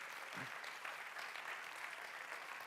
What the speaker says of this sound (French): Mesdames et messieurs, on peut applaudir Gary, s'il vous plaît.